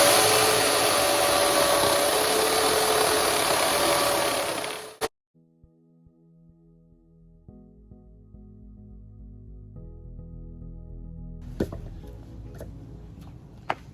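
A Harbor Freight chainsaw cuts through a branch a few inches thick in a loud, dense burst that stops abruptly after about five seconds. Faint mechanical ticks and knocks follow, with a couple of sharp clicks near the end.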